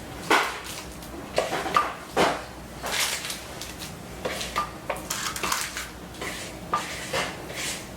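Meatloaf mixture packed into a parchment-lined loaf pan, a series of close soft thuds, pats and scrapes of a utensil against the pan, irregular and moderately loud with no speech.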